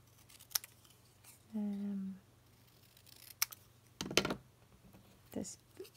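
Scissors trimming paper leaves for a card, with a few short, crisp snips and cuts heard close up in a quiet room, and a brief hum of voice in between.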